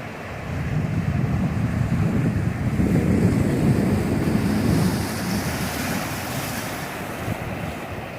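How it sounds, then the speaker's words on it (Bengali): Sea waves roll and break steadily on Shankarpur beach near Digha, a continuous loud surf wash with wind buffeting the microphone throughout. "কাছ থেকে দেখাচ্ছি আপনাদের ঢেউগুলা দেখুন, এই যে দেখুন ঢেউটা কি সুন্দর লাগছে এখান থেকে।"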